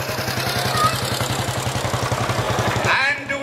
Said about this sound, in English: Entry number 54 is a 1923 Panther Sloper.